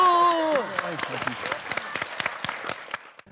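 A studio audience on a Korean TV talk show breaks into applause right after a voice trails off, a burst of close clapping that thins out and fades within a few seconds.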